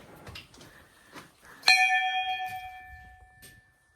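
A single metal bell at a village goddess shrine in the Uttarakhand hills is struck once, ringing out loud and close, then fading over a couple of seconds after some faint handling noises.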